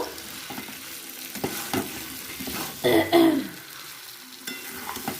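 Pre-boiled chickpeas sautéing with spices in a pan for a Bengali chana paneer dish, a soft steady sizzle with scraping spatula strokes and a louder stirring burst midway, close by.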